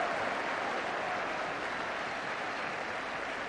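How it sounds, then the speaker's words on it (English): Football stadium crowd in 1986 applauds goalkeeper Neville Southall, a broad, steady roar of clapping and crowd noise that stays even and distant throughout without any speech. "Applause for Neville Southall."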